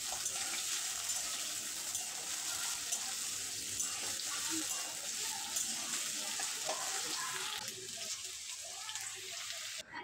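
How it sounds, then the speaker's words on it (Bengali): Diced potatoes fry in mustard oil with a steady, dense sizzle and occasional stirring scrapes. The frying stays loud and close, then eases slightly near the end. "আলু আমি নেড়ে চেড়ে কিছুক্ষণ ভেজে নেব।"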